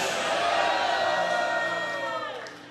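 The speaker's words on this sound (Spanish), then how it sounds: "Fuerte ese aplauso" Church congregation at a Christian mission service applauds and cheers, a loud, sustained wash of clapping mixed with shouts and whoops, tapering off at the end.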